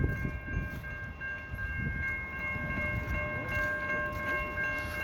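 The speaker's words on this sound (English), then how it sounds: "It's a Via train." A Via Rail LRC passenger train passes during a heavy April snowstorm, its steady low rumble and rolling wheel noise holding throughout, with faint sustained tonal hums above, moderately distant and with no voices.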